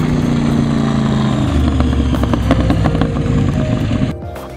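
A military aircraft tow tug's engine runs loud and close, a steady rough drone that shifts pitch partway through and then drops off sharply near the end.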